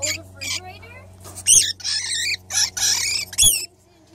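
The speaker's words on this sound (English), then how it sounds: "Look at this birdie. Pretty bird." A pet bird indoors near a kitchen gives loud, harsh squawks in several bursts, close to the listener, with faint background hum between calls.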